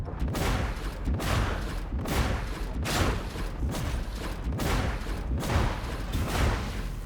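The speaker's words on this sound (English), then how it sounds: "My plasma gun does not have optimized cooling. And we're just going to shoot it a bit." Plasma gun fires in Warhammer 40K Darktide, shot after shot in a steady rhythm of about eight heavy booming blasts, loud and close with no talking.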